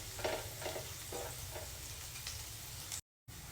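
Garlic sizzles in a pan with fish, a soft steady frying crackle broken by a few louder stirring scrapes near the start, followed by a brief dropout of silence.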